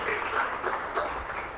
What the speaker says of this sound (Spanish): ¿Por qué no le damos un aplauso a nuestro Dios por esta palabra bendita